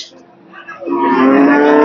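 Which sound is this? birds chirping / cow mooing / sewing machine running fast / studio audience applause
cow mooing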